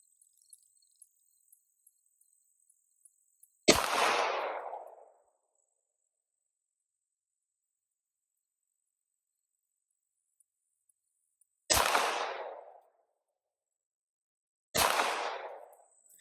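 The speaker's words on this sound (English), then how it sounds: "Now we're going to shoot the 48 MOS, 25 yards." Three loud outdoor shots from a 48 MOS rifle fired at 25 yards, each a sharp crack followed by a rolling echo, separated by long silent gaps, with faint insect chirps at the start.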